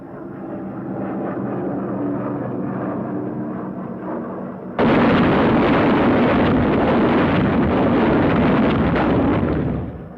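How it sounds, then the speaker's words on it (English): WWII US aircraft drop jellied gasoline incendiary bombs: a steady droning aircraft engine gives way midway to a sudden, loud, sustained roar of explosions that fades slightly at the end. "Another drop of the jellied gasoline bombs."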